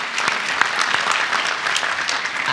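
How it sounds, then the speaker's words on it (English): Audience applause at the Harvey Mudd College commencement ceremony in 2015, a continuous crowd of clapping hands with scattered sharper individual claps, sustained evenly throughout. "I'd like to give you another round of applause."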